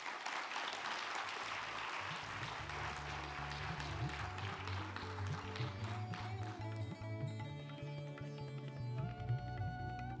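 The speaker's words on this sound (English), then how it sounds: "Please give him a round of applause." Audience applause at a national office bearers and active workers conference, a steady wash of clapping across a large room, mixed with music and a low hum, continuing without a pause.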